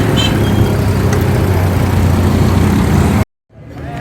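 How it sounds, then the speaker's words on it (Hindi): Heavy car traffic crowds a busy Pakistani car market, a dense, continuous low engine rumble and road noise that cuts off abruptly near the end, then returns more faintly. "गाड़ियों का इंतहाई रश।"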